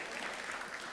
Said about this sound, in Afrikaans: Geef vir die orkest ook een lekker hande klap